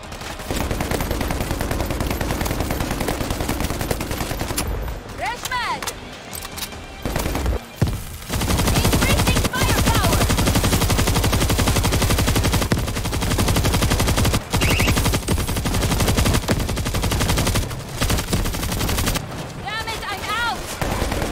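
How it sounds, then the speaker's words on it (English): A .50 caliber machine gun fires in the co-op shooter World War Z Aftermath on the Rome map: loud, close bursts of rapid gunfire broken by short pauses and scattered booms, with brief voices in between. "50 caliber is armed. Machine gun ready!"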